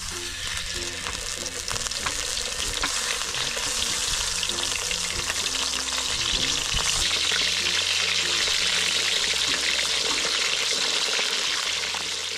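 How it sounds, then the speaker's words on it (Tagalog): Fish frying in a pan at a family outdoor cookout, a steady, loud crackling sizzle with bubbling oil and occasional stirring that runs throughout with no talk. "Prito po muna tayo ng isda."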